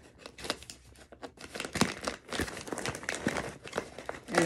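Scissors slice through a kratom package while the plastic crinkles and rustles in irregular bursts, close up, with snipping and tearing sounds and no speech.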